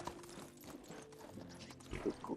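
A horse's hooves clip-clop at a walking pace in the farming game Medieval Dynasty, a faint, quiet run of soft hoofbeats with a few louder thuds near the end.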